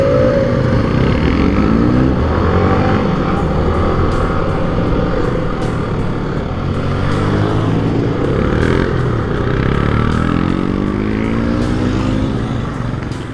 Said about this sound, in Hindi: भाई ये आ रही अपनी बुलेट